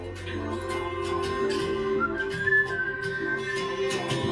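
Melodic whistling rides on top of a country-pop band recording, with clear repeated whistled notes playing along over steady music and no talking.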